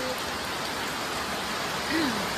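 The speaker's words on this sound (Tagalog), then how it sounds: "Basta lagi malakas yung ulan guys." Steady, dense heavy rain pours down without a break, a loud wash of noise close by, with a brief faint voice-like sound near the end; the rain is flooding the area.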